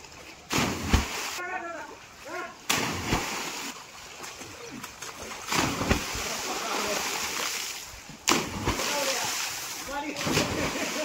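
Splashes and sloshing waves from people jumping into village swimming water outdoors, with repeated loud bursts of splashing between choppier water, while voices talk and shout over it.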